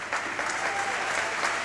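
Crowd applauding at a soccer grand final between Murdoch Warriors and Stirling, a steady distant wash of clapping from the stands with a faint hum underneath.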